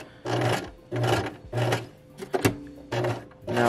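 A sewing machine stitches a woven label onto a t-shirt in five loud, close bursts of rapid needle whirring separated by brief pauses, with a short clunk of handling midway.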